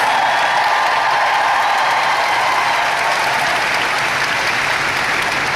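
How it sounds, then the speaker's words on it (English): A large audience gives loud, sustained applause for backstage staff at a stage event, with dense clapping that holds steady at full strength from start to finish. "Give them a huge round of applause."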